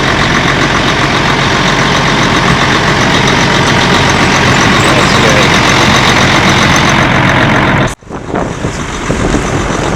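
A loud truck engine, fitted with tire chains, idles with a steady rumble close by, then briefly cuts out before resuming as it pulls forward.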